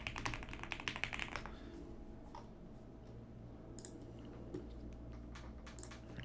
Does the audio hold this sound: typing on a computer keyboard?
yes